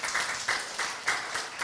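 A church congregation applauding during a worship service, dense rhythmic clapping in unison with regular beats, loud and close, filling the room.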